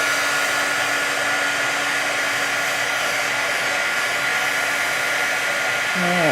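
A handheld heat tool blows a steady, loud whooshing hum as it dries a freshly sprayed, still-wet craft item, running continuously before its tone shifts at the very end.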